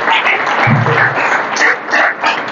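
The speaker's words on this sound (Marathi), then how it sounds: "सर्वांनी एकदा जोरदार टाळ्या वाजवायच्या आहेत" Audience at a ceremony honouring an Indian Navy vehicle driver claps loudly together, a dense sustained burst of applause running steadily through the whole stretch.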